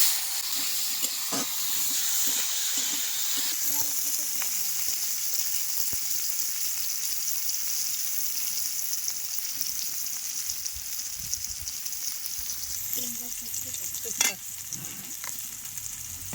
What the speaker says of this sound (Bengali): তেলের মধ্যেই উস্তেটা দিয়ে দেব।